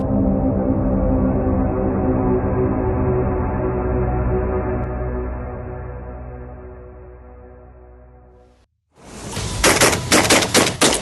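A 2025 model Aksa S4 Extreme Pro gun fires a quick string of about five or six loud, sharp shots close by near the end, after a long steady low droning hum and a brief silence.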